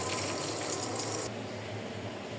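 Hot water pours into a rice cooker in a home kitchen, making a steady, close rushing splash. The splash thins out about halfway through and continues more softly, with no voices.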